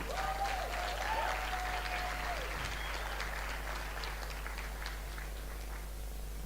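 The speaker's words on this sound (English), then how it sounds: "Can we give him a round of applause?" Applause rises from a conference audience at a youth event in a Johannesburg hotel, a dense, even patter of many hands held at a moderate distance for several seconds, with a faint whistle-like tone early on.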